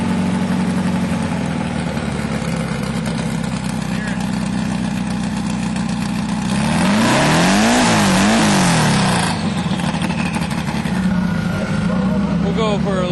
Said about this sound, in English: I got to go for a ride in a sand rail, 450 to 500 horsepower, nitrous oxide injected